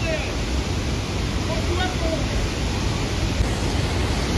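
Floodwater rushing past a village temple and road in Kullu, a steady loud roar of churning water that runs throughout.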